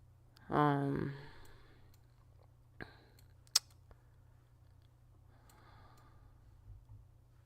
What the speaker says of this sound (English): I've just been like, clicking on wherever we can go.